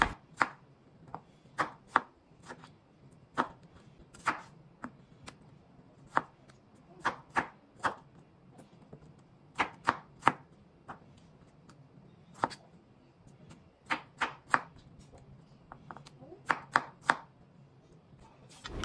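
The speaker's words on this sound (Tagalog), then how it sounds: "Hiwain na natin yung kamatis." A knife chops tomatoes on a cutting board in sharp, irregular taps, a few dozen close, crisp strikes with brief pauses and no talking.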